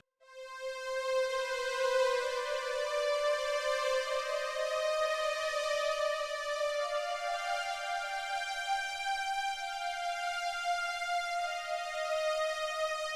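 A bright synthesizer pad swells in and holds long, rich sustained tones with a slow pitch shift, smooth and steady throughout, meant to sit over a synth bass; no voices.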